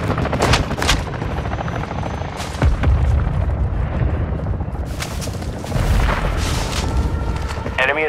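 An attack helicopter goes down in a Call of Duty: Modern Warfare II DMZ match, rotor drone broken by loud booming blasts and scattered gunfire, with a voice briefly speaking over the chaos.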